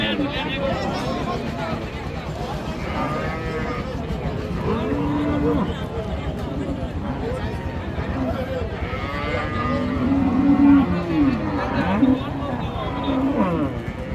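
Cattle at a busy village livestock market, Raniganj Haat in Dinajpur, where Friesian dairy cows are for sale. Several deep moos rise one after another over steady crowd babble and nearby talking.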